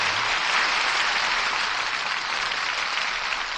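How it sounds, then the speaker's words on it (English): Studio audience applauding at the close of a Lux Radio Theatre broadcast of the film noir drama, a dense, steady wash of many hands clapping, loud and continuous without any voices. "That applause says it all."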